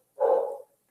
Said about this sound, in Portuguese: O cachorro está latindo aqui.